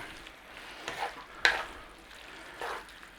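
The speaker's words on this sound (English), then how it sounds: "In there, those green onion tops. Stir them all through." Soft stirring and light sizzling as green onion tops are tossed through a chicken and cabbage stir-fry with the flame off, a few scraping strokes and faint crackle, close and quiet.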